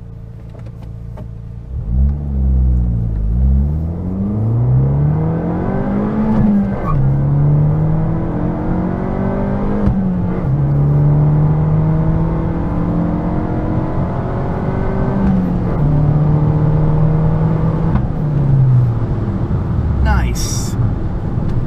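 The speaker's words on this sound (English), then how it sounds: "Watch the boost in sport mode." A Fiat Abarth 500 in sport mode accelerates hard through several gears, its engine note rising and falling in loud sweeping pulls, close and continuous, with turbo boost whir, while someone talks over it.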